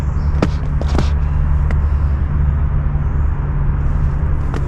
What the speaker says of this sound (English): Except for the traffic noise.